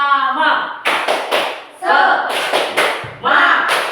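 A school class performs a rhythmic group clapping routine, sharp unison claps in short bursts alternating with loud chanted voices, close and energetic in a classroom.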